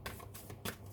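Tarot cards are shuffled by hand in a quick riffle with two brisk bursts of papery flutter, close up and without talk.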